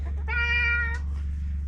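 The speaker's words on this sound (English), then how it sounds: "You're such a big kitty." A big house cat with aggression problems lets out one clear, drawn-out meow lasting under a second, close and fairly loud. A steady low hum runs underneath.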